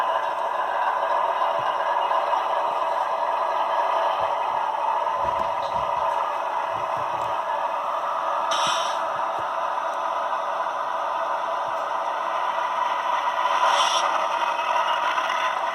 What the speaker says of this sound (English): That sound you hear, it's the turbocharger.